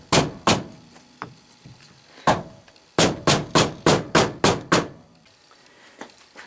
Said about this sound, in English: 5/32 pin, I put a drop of oil on it, and I'll just hammer away.